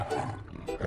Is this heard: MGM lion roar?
yes